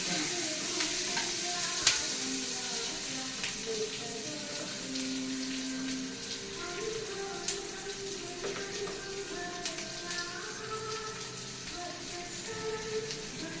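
Onions fry in a pan, a steady close sizzle with occasional stirring scrapes and clicks throughout, and no one speaking.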